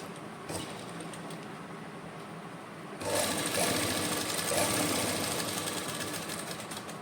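A sewing machine stitches joint lace onto fabric with a fast, steady mechanical whirr, quiet at first and then louder and continuous after a few seconds, close up with no talking.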